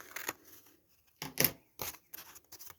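Scissors snipping thread on a craft booklet, a handful of close, crisp cuts in short separate bursts with quiet pauses between.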